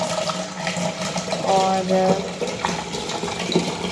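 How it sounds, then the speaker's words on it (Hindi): Tap water runs into a washed saucepan in a home kitchen, a steady splashing fill with a rising tone, beneath a voice and background noise. "अब इसमें ऐड करेंगे पानी"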